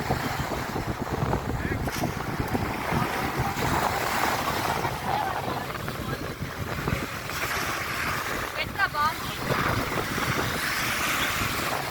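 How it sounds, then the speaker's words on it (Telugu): Waves break and wash on Rameswaram beach, a gray-sand shore, with a steady roar of surf and wind buffeting the microphone, while voices talk faintly. "Grey colour beach in Rameshwar."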